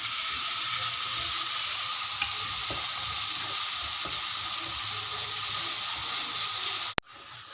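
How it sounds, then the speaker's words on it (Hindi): Masala for moong dal sizzles steadily in hot oil, a loud, even frying hiss that continues unbroken until a brief sharp knock near the end. "अब इसको अच्छी तरह भून लें"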